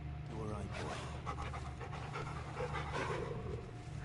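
Dog panting in the video game Final Fantasy XVI, a steady rhythmic breathing heard close over a constant low hum, with a person talking over it throughout.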